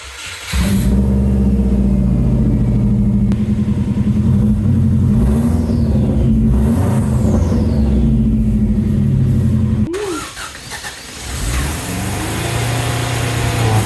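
A Subaru Brat engine with a stuck throttle races at high, steady revs right after a jump start, loud and close for about nine seconds, then drops briefly before climbing back to a sustained roar.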